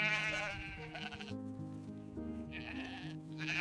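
Sheep bleat repeatedly as they are let out of their enclosure to graze, the wavering calls fairly close and layered over one another, with a faint murmur behind them.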